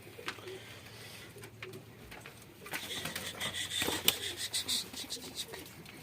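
Mardin pigeons coo softly while being let out of their coop, a low murmuring under faint rustling and wing flutters, with brighter flapping and scuffling noises building in the second half.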